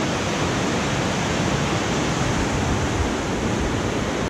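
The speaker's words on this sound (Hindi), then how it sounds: "बहुत ज़्यादा स्पीड है यहाँ पे पानी की।" Fast-flowing river water rushing beneath a bridge in Ayun Valley, Chitral, a loud, steady broadband roar that holds unbroken and close throughout, with no voices.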